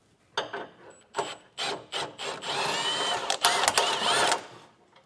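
A ratchet loosening a 15mm bolt on the underside of a 2025 Chevrolet bumper mount, giving a series of close, rasping clicks in short bursts that lengthen into a steady run of ratcheting.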